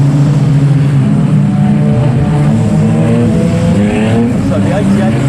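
Race cars lapping a circuit, their loud engines droning and shifting pitch as they pass, close and continuous, with a commentator's voice running over the noise.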